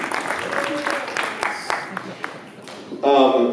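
A debate audience bursts into applause for a Utah Republican state senate race, a brief loud clapping burst that comes in at the end after someone talks.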